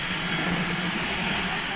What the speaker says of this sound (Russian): последние 40 километров до Тихого океана мы едем на паровозе